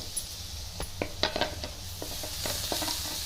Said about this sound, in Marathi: आता लगेच आपल्याला टोमॅटो टाकून द्यायचे त्याच्यामध्ये